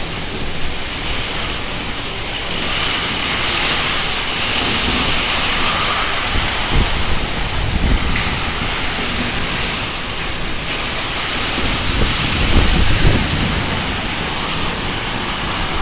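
Extreme heavy rain with hail pounding down in Mettupalayam, Coimbatore, Tamil Nadu, a loud, dense, unbroken roar of downpour lasting throughout, with occasional heavier gusts and thuds.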